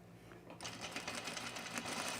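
Sewing machine stitching in the ditch on a 1930s-inspired blouse, a steady quiet motor whir with a fast rhythmic needle patter starting about half a second in, heard alone.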